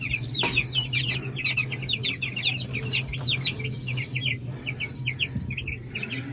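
Small chicks cheep and cluck in rapid, high, close chirps while drinking water, continuous throughout over a steady low hum.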